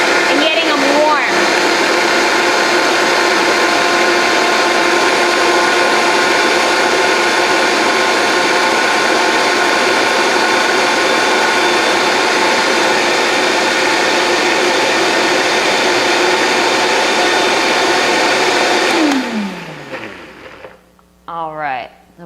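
A Vitamix blender runs on high for about twenty seconds, grinding contents in a loud, steady whirring roar that winds down to a stop near the end, followed by a few faint knocks.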